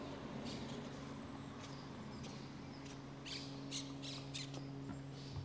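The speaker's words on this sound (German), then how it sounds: "Ja, die Papageien, die zwitschern hier oben." Parrots squawk and chirp overhead in a park in Meloneras, Gran Canaria: scattered sharp calls come from a distance over a steady low hum of the outdoors.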